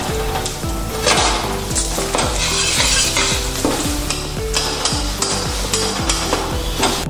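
Two bay leaves sizzle loudly in butter and oil in a pan for a Bengali tomato soup, a dense continuous crackle under rhythmic scraping strokes of a spoon against the pan, with no talk.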